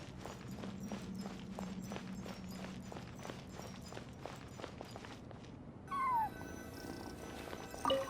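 Cat cries in the video game Genshin Impact, heard over a steady run of rhythmic footstep-like thuds; a soft, falling meow-like cry comes in near the end amid quiet game ambience.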